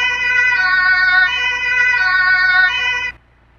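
A German police siren on a pace car in BeamNG.drive wails in a steady two-tone pattern, loud and close, alternating pitches several times before cutting off abruptly near the end.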